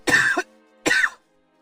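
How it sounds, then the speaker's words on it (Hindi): Two sharp coughs close up, with a short pause between them, in an otherwise quiet space. "शाम से अचानक खांसी चालू हो गई है।"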